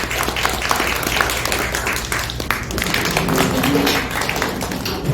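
An audience at a book launch ceremony claps to welcome a university president to the podium, a dense, sustained round of moderate applause heard at close range.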